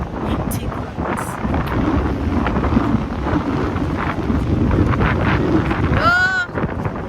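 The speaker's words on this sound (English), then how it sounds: "It's a bit windy" Strong wind blows across the microphone at a beach, a steady loud roar for the whole stretch with a brief whistling gust near the end.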